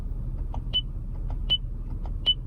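Three short high beeps from a Lexus navigation volume control, evenly spaced about three quarters of a second apart over a low engine rumble.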